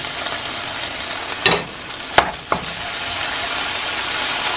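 Ginger and garlic hit a hot pan with onions and sizzle steadily and loudly, with a few sharp stirring scrapes cutting through the constant frying hiss.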